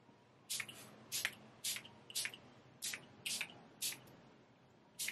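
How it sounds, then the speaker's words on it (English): Eight short, crisp bursts of lavender pillow spray onto bed sheets, spaced about half a second apart, quiet and close, with no talking. "we're gonna freshen up my sheets with some lavender spray."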